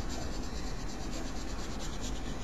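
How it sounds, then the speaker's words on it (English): White water-soluble oil pastel is burnished over darker color on paper, producing a steady, close, continuous scratchy rubbing with no pauses. "let's start burnishing over them with some white"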